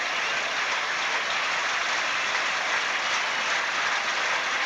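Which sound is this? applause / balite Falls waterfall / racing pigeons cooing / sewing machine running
applause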